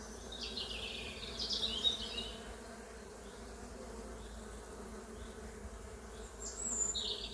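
Honeybee colony buzzing on a hive frame, a steady, moderately close insect drone of many bees with a few louder passes by individual bees.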